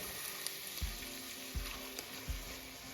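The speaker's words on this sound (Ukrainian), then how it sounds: "наші овочі вже так добре обсмажилися" Vegetables with bell pepper sizzle steadily in a hot pan, with a few soft low knocks spaced about a second apart as they are stirred.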